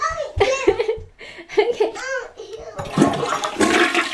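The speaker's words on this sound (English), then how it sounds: "I put it in the toilet. You flush it." A household toilet flushing with a rushing surge of water, preceded by a voice and giggling and adults talking nearby.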